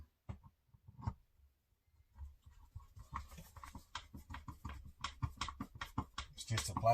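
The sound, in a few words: screws being put back into air rifle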